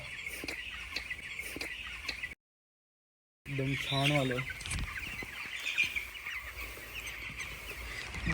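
Chicks and fowl chirp and cluck at their feed in a Marathi home setting, a busy stream of small calls broken by a short gap, with someone talking over them.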